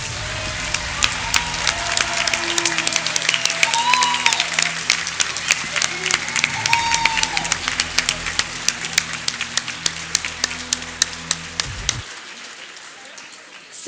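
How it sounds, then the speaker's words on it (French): An audience at a master's degree graduation ceremony claps continuously for the seated graduating students, a dense wash of applause with scattered louder individual claps that thins out and stops abruptly near the end. "Alors on peut encore applaudir l'ensemble des étudiants qui viennent de s'installer."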